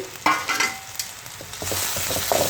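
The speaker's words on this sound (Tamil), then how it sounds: "இப்போ இதில் எடுத்து வச்சுருக்க இஞ்சி பூண்டு பேஸ்ட்டை சேர்த்து நல்லா வதக்கிக்குவோம்" Ginger garlic paste sautéing in a pan for a broccoli vegetable gravy, with a steady hiss of frying and a few stirring scrapes and clinks of the spoon, close and alone without talk.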